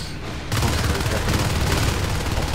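Marines firing guns in the video game Natural Selection 2, a dense continuous barrage of rapid gunfire that bursts in after a brief quieter opening and stays loud throughout.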